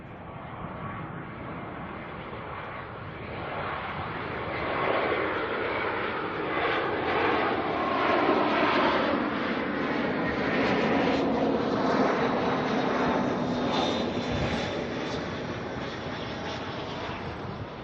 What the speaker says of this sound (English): Got a Jetstar A320 coming on in from Wellington.